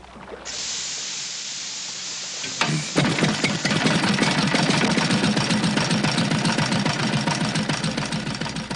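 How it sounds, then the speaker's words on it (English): A small motor at high altitude on Lake Titicaca runs on pure oxygen fed into its carburetor, hissing at first, then catching into a fast, steady chugging putter that continues at close range, with no talk. "The solution is to feed pure oxygen into the carburetor."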